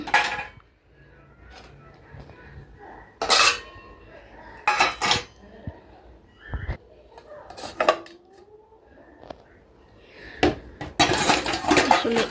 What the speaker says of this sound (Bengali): থালবাটিটা মেজে ফেলছি তো এগুলো এখন শুধু উপর করে আর কি র্যাকের মধ্যে থোয়াটা বাকি